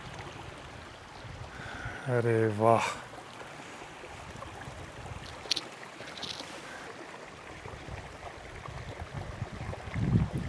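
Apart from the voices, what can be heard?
mountain stream water flowing in the Swiss Alps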